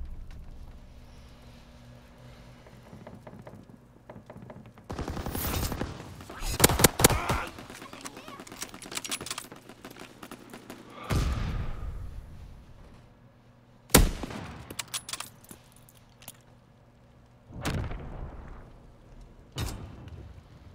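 Gunfire in the World War II shooter Call of Duty WW2 comes in several loud bursts of shots and explosive blasts, with quieter gaps between volleys and a voice calling out over the battle.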